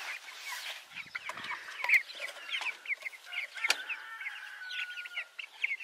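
Several brown leghorn chickens in a tractor pen cluck in quick, overlapping bursts, with clear close calls and occasional sharper squawks.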